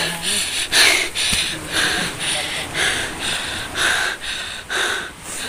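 Heavy rhythmic panting after swimming, about a dozen loud breathy gasps in a steady rhythm, close and out of breath.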